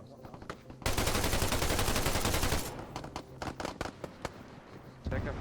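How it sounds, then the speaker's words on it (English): Arma 3 gunfire, a sustained burst of dense automatic fire followed by scattered individual shots and cracks at varying distances, with a voice in the background. "I'm going to shoot a few dudes in the back"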